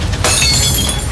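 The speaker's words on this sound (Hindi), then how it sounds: "नीचे गिरते ही ग्लास एक तेज आवाज के साथ टूट गया" A drinking glass knocked off a table shatters on the floor with a sharp, loud crash at the start, then a bright tinkling spray of shards follows briefly. No one speaks.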